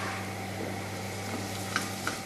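Shallots and garlic soften in a pan, producing a quiet, even sizzle with a faint steady hum beneath and no voices.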